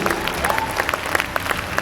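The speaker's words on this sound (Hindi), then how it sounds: "एक बार दिल से जोरदार तालियां होना चाहिए" Audience applause at an annual company event, a dense wash of clapping from a crowd with voices mixed in underneath.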